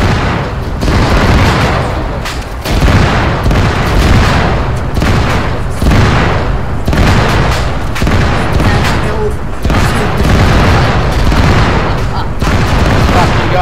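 Frag grenades going off in a dense, continuous barrage of loud booms and gunfire during a combat operation, with overlapping blasts and shouting voices throughout.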